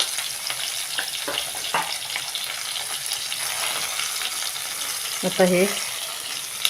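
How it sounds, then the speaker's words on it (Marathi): Eggplant curry with dry coconut stir-fried in oil, a moderate sizzle with a few scraping stirs early on and a brief spoken voice near the end. "असं 1-2 मिनटं आपण हे सगळं मिक्स करून घेऊया तेलात चांगलं परतून।"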